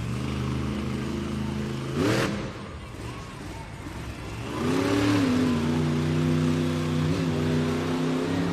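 A Monster Jam monster truck engine revs hard in an arena, with a short roaring burst and then a longer, sustained rising roar. The engine sits fairly close and loud, and an announcer's voice is faintly mixed in.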